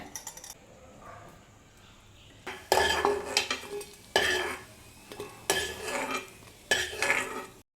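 Sunflower seeds and raisins roast in a pan, heard as close bursts of metal spoon stirring and scraping against the pan that come in several separate rounds with quiet pauses between them.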